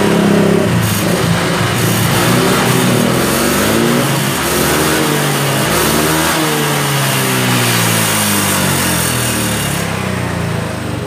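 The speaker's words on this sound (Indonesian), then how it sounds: "Ini saya gas ya." A Honda Vario 125 scooter engine with a weak battery revs loudly and steadily, its pitch rising and falling through repeated throttle blips, close by with no talking.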